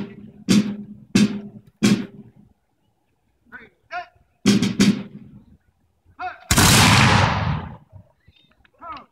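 A musket volley in Williamsburg, Virginia lets go as one loud, roaring blast that fades over about a second, preceded by several short shouted commands.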